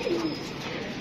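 Pigeons cooing close by, a soft low warbling coo near the start that trails off into quieter rustling, with no talking over it.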